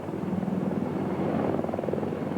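A CH-53 military helicopter drones steadily and loudly throughout, its low rotor thump and engine roar continuous with a faint rhythmic chop rising slightly midway.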